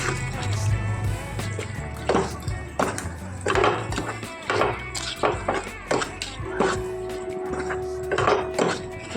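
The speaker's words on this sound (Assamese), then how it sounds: "গুড়খিনি এয়া গলালৈকে মই এনেদৰে ভাজি থাকিম" Jujube and jaggery being stirred in a pan as the jaggery melts, with repeated sharp clinks and scrapes of a spoon against metal, close and irregular.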